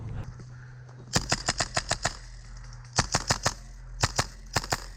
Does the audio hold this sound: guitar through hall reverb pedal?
no